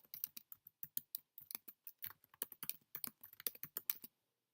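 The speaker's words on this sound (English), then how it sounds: "So let's type in the general address." Fast, crisp typing on a computer keyboard while an address is entered, a rapid run of close, distinct key clicks lasting about four seconds before stopping into silence.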